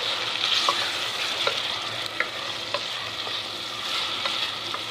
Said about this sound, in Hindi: बाद में इसमें डाल देंगे टमाटर। इनको अच्छी तरह मिक्स कर लेंगे।